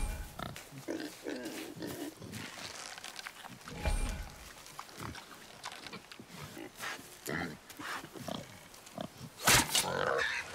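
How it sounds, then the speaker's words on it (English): Wild boar grunting in the video game God of War, a series of low, rough snorts and grunts mixed with game effects, with a sharp loud burst near the end. "A wild boar's hide is thick."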